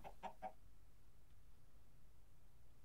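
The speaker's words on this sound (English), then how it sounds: "Did somebody just hear a chicken die?" Chicken in a video game giving three quick, faint clucks at the start, followed by quiet background.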